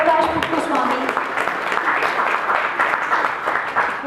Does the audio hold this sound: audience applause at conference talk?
yes